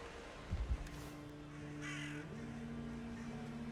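In the video game Valheim, a crow-like bird caws, heard as a few faint, harsh calls over steady ambient wind and a low droning background.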